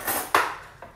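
A fork clinking against a plate while eating bacon, pepper and tomato spaghetti: two crisp metallic taps close by, a louder one followed by a softer one, no talking.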